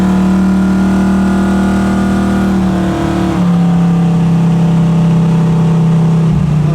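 A 1976 Pontiac Trans Am cruises down the road at highway speed, its engine droning loudly and steadily, with a brief dip and step down in pitch midway like a change in throttle, then settling into an even hum.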